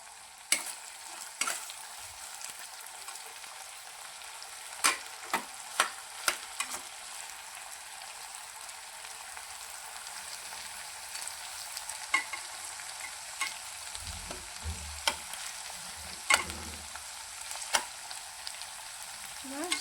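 Potato and sago khichdi is stirred in a frying pan, a faint continuous sizzle broken by scattered scraping clicks of the spoon against the pan, with no voices.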